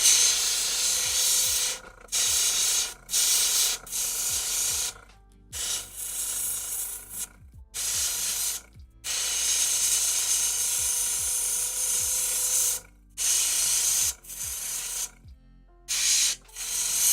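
An airbrush sprays paint at a painting and hobby bench in a series of short hissing bursts, roughly a dozen of them and each a second or two long, separated by brief silences in a steady stop-start rhythm.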